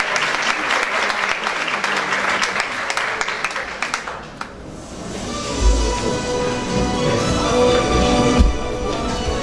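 Applause from a hospital anniversary ceremony audience in Turkey, dense and steady for about four seconds, then thinning into scattered claps under murmuring voices and background noise.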